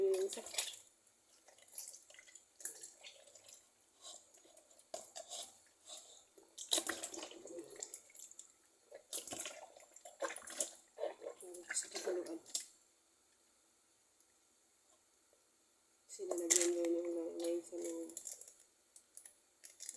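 Pig intestines being washed and soaked in water in a kitchen, heard as intermittent bursts of splashing and dripping separated by quieter pauses, fairly faint and close.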